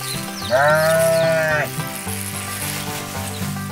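An animated sheep gives one loud, wavering bleat lasting about a second, set over cartoon background music that plays throughout.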